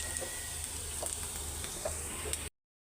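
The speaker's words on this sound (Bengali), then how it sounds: "এখন শাকগুলিও বাগার দিয়ে দিব" Boiled red amaranth greens are tempered in hot oil, giving a quiet, continuous sizzle and crackle with a few soft stirring clicks, which ends abruptly.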